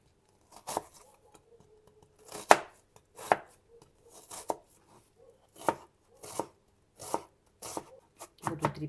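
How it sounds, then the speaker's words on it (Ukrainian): A knife finely chopping onion on a board, a quick series of crisp separate chops with short pauses, close and clear. "Вирізаю цибулю, але мені треба так мілко-мілко її нарізати."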